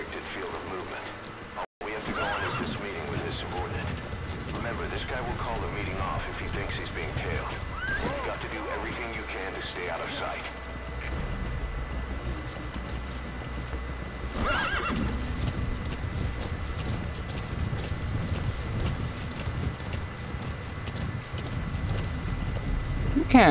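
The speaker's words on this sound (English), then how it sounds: "I'm on the back of the horse right now." A horse gallops with steady clip-clop hooves and neighs repeatedly while ridden along a road in the Metal Gear Solid 5: The Phantom Pain video game, a dense continuous mix with occasional voices underneath.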